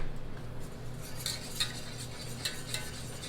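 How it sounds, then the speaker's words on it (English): A spoon stirring thickening béchamel sauce in a pot, with soft scraping under a low hum and a few light metallic clinks against the rim, fairly quiet. "So now I'm stirring. It's getting a bit thicker already."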